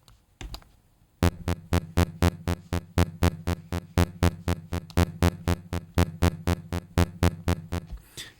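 Synthesizer step sequencer playing an evenly spaced pattern of sharp percussive beats, about three hits per second, loud and regular after a brief pause, alone with no voices.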